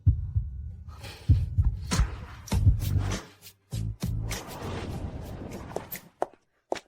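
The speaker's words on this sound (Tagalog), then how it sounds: "Bakit kaya mabilis ang tibok ng puso ko?" A fast heartbeat sound effect thumps in a quick repeating rhythm, loud and close, with short pauses and a brief dropout partway through.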